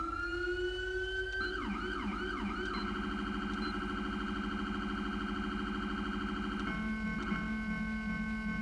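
A police car siren from a video game vehicle pack sounds continuously and loudly, wailing steadily before shifting into quick yelping sweeps and then a fast two-tone pattern, with no voices.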